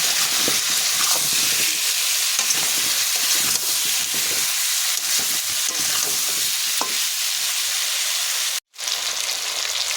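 Pumpkin and potato frying in a pan with turmeric and salt, stirred steadily, give a loud, continuous close sizzle and hiss with scraping stir strokes throughout and a brief break near the end.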